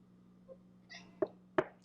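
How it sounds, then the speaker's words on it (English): A needy house cat gives a couple of short, sharp cries close by, two abrupt bursts after a faint mew, over a low steady indoor hum. "we have a needy cat nearby as well, like usual, if you heard her cry"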